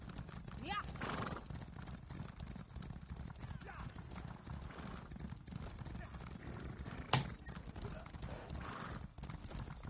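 Hooves clip-clop steadily as a horse gallops in an online PvP video game, with a whinny partway through, heard fairly faint under a busy game soundscape.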